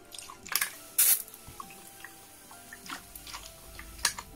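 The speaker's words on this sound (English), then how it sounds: "I'm gonna mist it down quick." Spray bottle misting a small terrarium enclosure with dirt substrate, a few quick hissing spritzes followed by faint drips and ticks, heard alone at close range.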